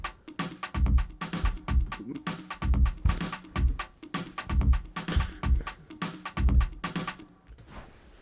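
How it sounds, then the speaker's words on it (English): Deep, booming timpani-style drums beating a repeating pattern, pairs of heavy hits rolling in a steady cycle, loud and resonant. "Here's some big timpani type drums."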